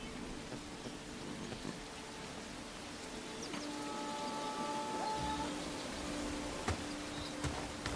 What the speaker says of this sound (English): but we got a bunch of rain.